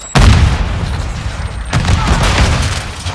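Heavy gunfire rings out in Call of Duty: Modern Warfare II: a sudden loud burst opens into sustained rapid shooting and booming blasts, with a second surge of fire partway through.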